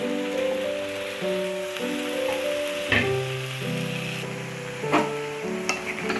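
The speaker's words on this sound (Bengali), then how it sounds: "মশলার সঙ্গে সবজিগুলো একটু নাড়িয়ে নিচ্ছি।" Vegetables stirred with spices in a pan for a Jagannath temple bhog dish: a loud close sizzle with repeated spoon scrapes and knocks against the pan, while a tonal background hum of music or chanting plays.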